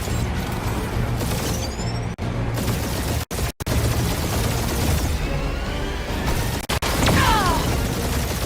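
A film battle scene filled with dense, continuous booming gunfire and explosions, loud and sustained with brief cuts to silence, and high whooshing projectiles passing through.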